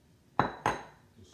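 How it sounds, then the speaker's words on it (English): Two sharp clinks of a utensil against a dish while bacon is mixed into food, close and fairly quiet, each ringing briefly before fading, with no talking. "Take your bacon, mix it up in there."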